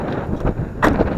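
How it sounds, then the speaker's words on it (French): Wind buffets the microphone outside a 2017 Fiat Tipo car with low, rumbling gusts and a louder burst near the end. "Désolé pour le vent."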